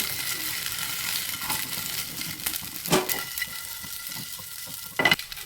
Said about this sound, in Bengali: দিয়ে দেওয়ার পর মিডিয়াম ফ্লেমে এগুলো অনবরত নাড়াচাড়া করতে থাকবো